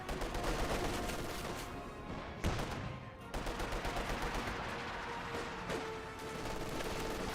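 Rapid gunfire and machine-gun bursts crackle through a Company of Heroes 2 battle as snipers and Grenadier squads engage, a steady, busy wash of distant shots with a few sharper cracks.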